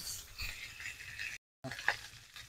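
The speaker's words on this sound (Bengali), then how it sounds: "এইদিকে মাছ ভাজা হচ্ছে" Pieces of shol (snakehead) fish fry in oil in a pan, a moderate crackling sizzle with small pops that cuts out for a moment and then returns, soft background murmur beneath.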